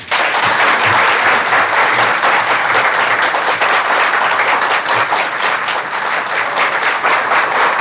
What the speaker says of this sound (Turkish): Bu güzel alkışlarınız için hepinize çok teşekkür ediyorum.